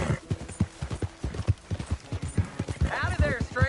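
Horse in Red Dead Redemption 2 galloping with a steady rapid clip-clop of hooves, then neighing in a rising and falling whinny near the end, with a voice talking over the hoofbeats.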